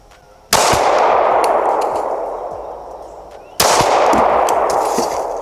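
Two loud, sharp gunshots ring out at a shooting range about three seconds apart, each followed by a long, ringing decay.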